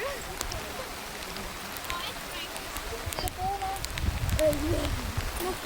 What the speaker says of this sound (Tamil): பயங்கரமா மழை பெய்யுது.